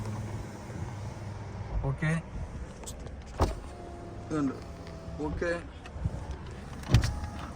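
Electric side mirrors folding and unfolding on a Hyundai Verna SX(O) top-end sedan: a few short motor whirs with small clicks, close by, between brief spoken remarks.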